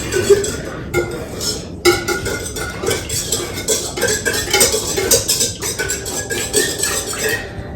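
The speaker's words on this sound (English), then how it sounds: "we're going to use our whisk and combine until they're fully, put together" A whisk clinks and scrapes rapidly against a bowl while milk is beaten into an egg batter for cinnamon chocolate chip muffins, a steady close-up rhythm of metallic taps and swishes with no talking.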